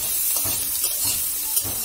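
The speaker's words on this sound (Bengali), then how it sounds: "তো এখানে করলা ভাজি হচ্ছে" Bitter gourd frying in oil with turmeric and salt, a close bright sizzle with irregular stirring scrapes and small pops across the whole stretch.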